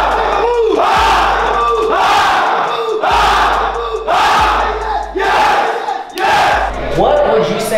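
A crowd at a business mastermind event in Chicago shouts and cheers together in loud, rhythmic bursts that repeat about once a second.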